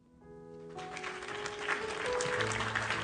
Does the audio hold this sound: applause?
yes